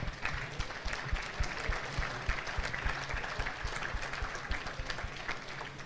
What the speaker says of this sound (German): Das ist ein Beifall wert.